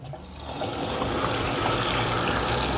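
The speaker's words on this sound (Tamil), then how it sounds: "இப்போது நான் தண்ணி பிடிக்கிறேன்." Water filling a Samsung semi-automatic washing machine tub, a loud steady gushing pour that builds quickly after a brief quieter start and stays close and continuous, with no talking.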